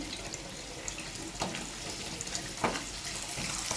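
Cluster beans and onion pieces fry in a pan with a steady, close sizzle, and a few sharper clicks and stirring scrapes rise above the hiss.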